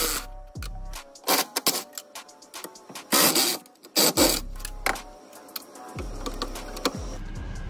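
A socket wrench works on the bracket bolts of a 2001-2003 first-generation Toyota Prius hybrid battery, giving bursts of close, scratchy ratcheting and metallic clatter separated by low mechanical hums.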